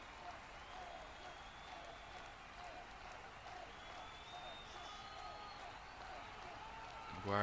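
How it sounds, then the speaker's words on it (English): A home football stadium crowd applauds during a Premier League match, Manchester United against Crystal Palace, a steady distant wash of clapping and cheering as a player leaves the field, with talk over it. "Maguire applauded off the field by the home crowd."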